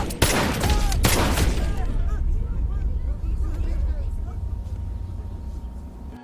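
Rapid pistol gunfire from a film scene, a burst of loud sharp shots in the first second or two under a busy mix, followed by a lower rumbling background for the rest.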